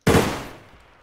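A single sharp gunshot in the video game DayZ Standalone bursts out loudly, then its echo fades away over about a second, with nothing else around it.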